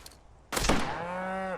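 A cow in the video game Western Rye lets out a single loud, drawn-out moo right after a dull hit, rising abruptly from quiet and holding steady before cutting off.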